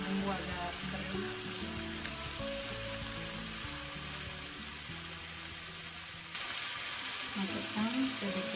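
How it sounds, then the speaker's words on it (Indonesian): Ground spice paste fries in a pan with a steady close sizzle and crackle, occasional stirring scrapes, and background music, with no talk. "Goreng sampai bumbu agak kering."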